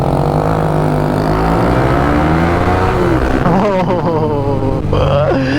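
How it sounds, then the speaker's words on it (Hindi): Yamaha FZ15 motorcycle with a modified aftermarket exhaust revs loudly and continuously up close, the engine pitch rising and falling in sustained throttle blips, with a voice briefly audible under the engine. "एग्जॉस्ट भी चेंज है, साउंड ऑलमोस्ट सेम है।"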